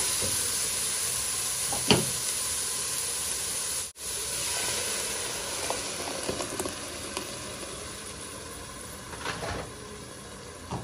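Steady frying sizzle fills the whole clip, a dense hiss with occasional brief clatters and scrapes, as blended tomato sauce, made without water, bubbles in a hot pan for moussaka.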